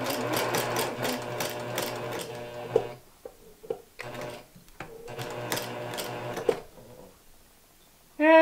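A sewing machine sews binding onto a small quilt in short bursts of rapid stitching separated by brief stops, close and fairly loud, with a few clicks between runs.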